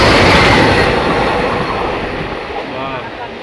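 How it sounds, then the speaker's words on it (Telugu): Visakhapatnam–Secunderabad express train rushing past at Nuzvid station, a loud continuous roar of wheels and wind close by that eases slightly as it goes. "ఇదిగోండి విశాఖపట్నం సికింద్రాబాద్ ఎక్స్ప్రెస్."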